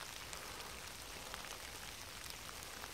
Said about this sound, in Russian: Наверное, слышно, что дождь идет